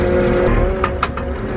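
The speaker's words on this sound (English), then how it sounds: "May as well get this silly race car out of the way." A race car engine runs loud and close with a steady droning tone, broken by a few short bursts near the end.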